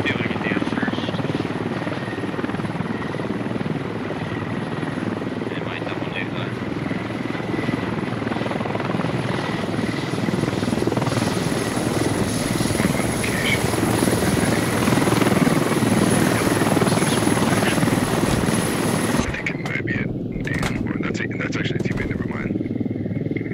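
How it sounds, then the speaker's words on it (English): A helicopter in the military shooter game Squad makes a continuous loud rotor and engine drone, with a high whine on top. It runs steadily for about twenty seconds and then cuts off abruptly, leaving scattered clicks. "we're gonna get this heli."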